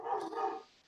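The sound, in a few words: dog barking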